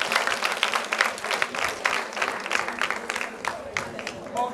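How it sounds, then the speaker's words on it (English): An audience at a high school event in Epe breaks into sustained applause, a dense, lively patter of many hands clapping nearby, with a voice speaking through it. "A round of applause for her."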